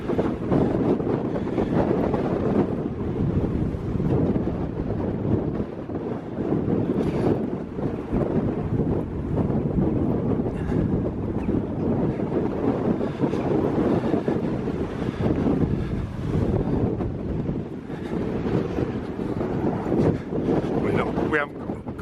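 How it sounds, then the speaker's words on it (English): Strong winter wind buffets the microphone in a continuous loud roar outdoors on an open path near Avebury, gusting steadily throughout with no clear talk. "this wind is going right through my hat"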